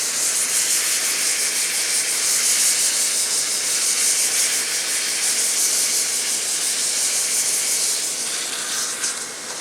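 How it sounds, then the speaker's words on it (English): Sandpaper rubs a hollow wooden piece spinning on a lathe at about 500 RPM, sanding a CA finish. It makes a loud, continuous, airy hiss that holds steady for several seconds before easing slightly, with no talk. "The more efficient sanding is at lower speeds."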